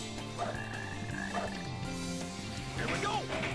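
Frogs croak in the video game Sonic Heroes, a pair of warbling, rising-and-falling croaks repeating over steady game music, fairly loud and close.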